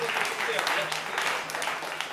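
Audience applause at an evening literary event in Meerut, a steady wash of many hands clapping throughout with background voices mixed in.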